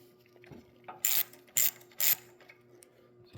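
Three short, bright ratcheting bursts as an 8mm ground bolt is tightened on a Troy Bilt riding mower with a Kohler 18 hp engine, spaced about half a second apart over a faint steady hum.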